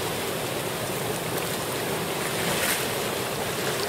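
Ocean surf at Coney Beach on a morning with small waves of about two feet and light winds, heard as a steady, loud, continuous wash of breaking water with some wind noise and no voices.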